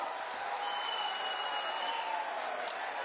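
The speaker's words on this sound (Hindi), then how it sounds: "अरे जोर से ताली बजाओ सुमना के लिए" Crowd at a Bengal election rally in Balagarh, Hooghly clapping, a steady, slightly distant wash of applause with faint voices beneath.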